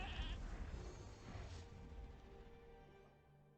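A goat bleats in The Elder Scrolls: Legends card game, a single wavering cry that fades out over a few seconds, heard alone without talk.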